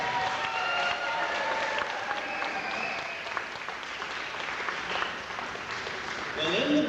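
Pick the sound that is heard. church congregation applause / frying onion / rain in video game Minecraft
church congregation applause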